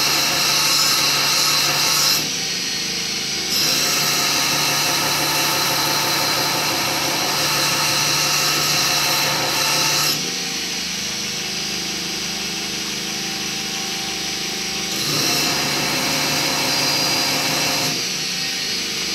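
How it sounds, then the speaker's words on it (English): A round bar knife blank is ground on a powered grinder, a continuous loud whirring hum that shifts in pitch and intensity as pressure on the workpiece eases and returns over several passes. "what I'm doing now is I'm matching the grind depth of both of these"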